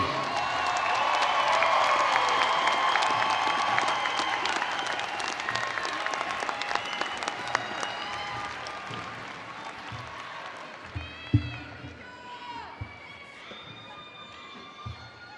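Graduates of a university commencement receive sustained crowd applause, dense at first and gradually thinning into scattered claps, with faint voices and shuffling noises mixed in as it dies down.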